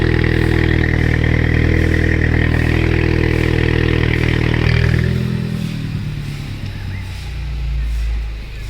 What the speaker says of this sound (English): I hope you like the cold start